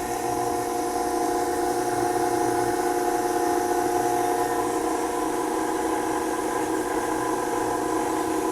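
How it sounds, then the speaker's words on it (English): An electric mixer runs on its stir setting through oatmeal cookie dough made with a flour and oat mixture, giving a steady, continuous motor whir and hiss at an even level throughout. "you can put it on the stir setting on the mixer"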